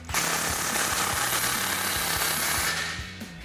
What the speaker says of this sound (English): take our 15mm socket to tighten it down